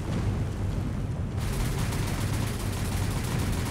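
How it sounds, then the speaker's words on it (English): Aircraft strafing with machine guns in the naval war game War on the Sea, a dense, continuous roar of rapid gunfire and rumbling fusillade that thickens partway through and stays loud to the end. "They are strafing the heck out of them"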